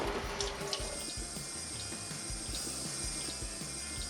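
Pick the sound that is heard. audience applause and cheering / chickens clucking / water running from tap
water running from tap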